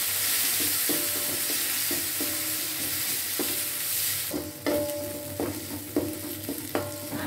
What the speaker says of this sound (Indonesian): diberi minyak goreng sekitar 3 sendok makan, kemudian goreng bumbu halus hingga aromanya wangi.